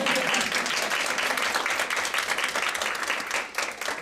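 Sustained applause from a crowd, dense and steady throughout, tapering slightly near the end.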